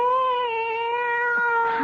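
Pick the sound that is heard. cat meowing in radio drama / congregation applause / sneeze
cat meowing in radio drama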